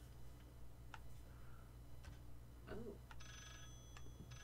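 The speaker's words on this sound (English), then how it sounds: "A ringing phone!" A telephone rings in the horror game Layers of Fear: short electronic trills sound at intervals against a low ambient hum, with a few faint ticks between them, fairly quiet and without speech.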